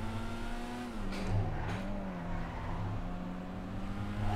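An Issi Sport car engine revs steadily in GTA 5 during a lap around U-turns, a constant droning tone that dips and climbs in pitch with a faint tire squeal, no voices.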